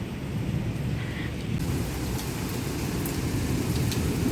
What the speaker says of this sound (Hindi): थंडरिंग लाइटनिंग ये सब हो ही रहा है, सब कुछ चल रहा है